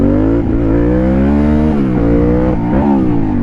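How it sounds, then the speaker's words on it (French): A Yamaha R6 sport motorcycle revving hard close by, its engine note rising and falling steadily with a dip near the end. "Petite accélération."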